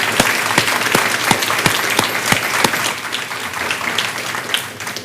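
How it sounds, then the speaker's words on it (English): A conference crowd at a neighborhood best practices gathering applauds for Sharon Ware; steady dense clapping with a few sharp, louder individual claps standing out early, fading slightly toward the end. "if you could give Sharon Ware a round of applause for really putting her life into this thing"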